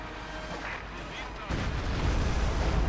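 A Company of Heroes 2 artillery barrage rumbles and booms continuously in a 1v1 match, the dense explosive roar growing heavier about halfway through.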